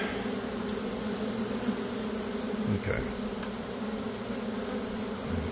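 An angry honeybee swarm in a bee yard drones in a loud, dense, continuous buzz that fills the air, with a brief muffled bump and one short spoken word partway through.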